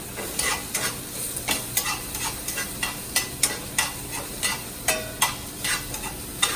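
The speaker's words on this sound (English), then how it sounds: "We're going to cook the shallot." Shallots cook in a hot pan over medium-high heat, giving a continuous sizzle broken by rhythmic scraping strokes from a utensil, close and fairly loud, with no talk.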